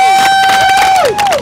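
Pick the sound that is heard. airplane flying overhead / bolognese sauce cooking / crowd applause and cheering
crowd applause and cheering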